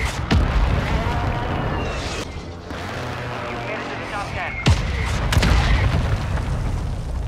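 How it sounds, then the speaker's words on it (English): Mortar explosions in Call of Duty Warzone 2 in the city of Al Mazrah, heavy booms landing repeatedly amid continuous gunfire and chaotic battle noise, with players talking over the action. "We're getting mortared."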